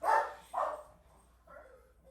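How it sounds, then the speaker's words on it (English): Two pet dogs bark indoors, two sharp barks in quick succession followed by a softer yip, somewhat distant and faint. "now my dogs have chosen to go insane"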